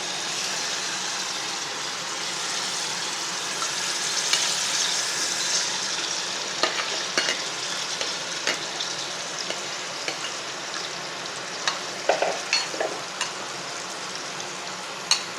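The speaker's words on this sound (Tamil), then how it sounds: "ஊற வச்ச சிக்கன் ஃப்ரிட்ஜில் வச்சு எடுத்து வச்சுருந்தோம்ல, அதை இதில் போட்டு கொஞ்சம் ஃப்ரை பண்ணி எடுத்துக்கணும்" Marinated chicken frying in a pan for chicken ghee roast gives a steady sizzle, with occasional sharp clicks and scrapes of stirring rising above it toward the end, no talking.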